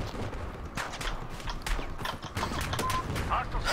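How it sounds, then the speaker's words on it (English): Gunfire in Battlefield 4: dense, overlapping shots and bursts crackle continuously at moderate loudness, mixed with other game noise. "Oh, I'm getting shot at."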